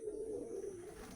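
A single pigeon gives a faint, brief, low warbling coo in a rooftop breeding cage, heard alone against quiet background noise.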